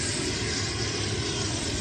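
An airplane's engines at an airport in Biratnagar drone in a steady, loud roar that stays unchanged through the short stretch, with no voices.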